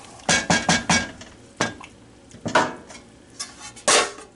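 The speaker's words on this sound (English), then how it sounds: "And you're going to stir it up a little bit again." A crawfish boil with corn stirred in a big pot: a series of close metallic clanks and scrapes in irregular bursts, with short quiet gaps between the strokes.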